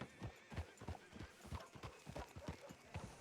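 Horse hooves clip-clop at a steady walking rhythm while riding through a town with a general store, gunsmith, post office and train station in a Western video game; moderately loud with no talk over it.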